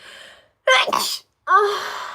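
A single loud sneeze, a sharp burst with a short gasping intake just before it, followed by a nasal breathy sound, with quiet moments around it.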